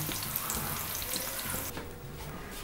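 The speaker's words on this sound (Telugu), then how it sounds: "కాకరకాయలన్నీ సమానంగా వేగిపోయాయి" Stuffed bitter gourds fry in a pan of oil with a steady, close sizzle that fades near the end.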